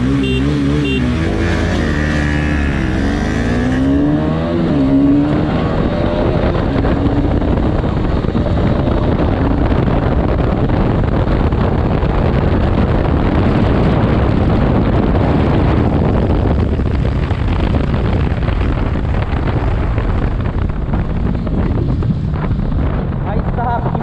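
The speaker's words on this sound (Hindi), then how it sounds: "इस टाइम फिर से अभी मैं चला रहा हूँ BS6 RS 200 और राहुल चला रहा है BS4 RS 200।" A Bajaj Pulsar RS200 motorcycle in a BS4 versus BS6 drag race revs up with a rising engine note, then roars on as heavy wind buffeting sweeps across the microphone and nearly drowns the engine.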